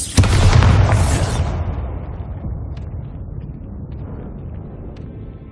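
A Bombarda spell in Hogwarts Legacy bursts with a loud, sudden boom, followed by a long rumbling tail that slowly fades over several seconds with faint debris ticks.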